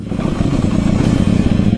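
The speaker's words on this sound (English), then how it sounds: "At this moment, restarting the bike feels incredible." A dirt bike with an oil-soaked air filter, restarted after deep water at a mudslide race, runs in a loud, steady, rough idle with clattering mechanical noise and no voices.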